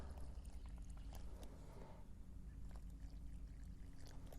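Water poured from a container into freshly dug planting holes for little bluestem grass outdoors, a steady close pouring and splashing rush that runs continuously, over a low rumbling background.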